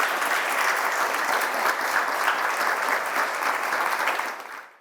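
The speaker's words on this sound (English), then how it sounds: "Let's give Sally a big round of applause, everyone." Podcast studio audience gives a guest a steady, full round of applause, dense and even throughout, then fading out quickly at the very end.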